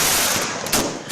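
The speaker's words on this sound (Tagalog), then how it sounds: "nagliwanag ang kalangitan dahil sa napakagandang fireworks display" A New Year's Eve fireworks display: dense, continuous crackling bursts and rapid pops, loud and close, with a sharper blast partway through and no voices.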